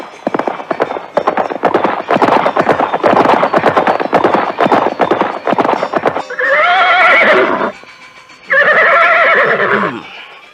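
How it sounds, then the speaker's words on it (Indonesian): Horse neighing and galloping as an audio drama effect: a rapid, loud clatter of hooves for about six seconds, followed by two long, shrill whinnies close up. "Namun kuda Parasuta semakin kencang memacu kudanya"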